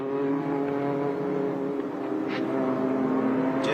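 A VR38-powered Ginetta race car at a time attack event holds a loud, steady engine drone close by, with sustained revs and a layered harmonic buzz that barely varies for about four seconds, no voices over it.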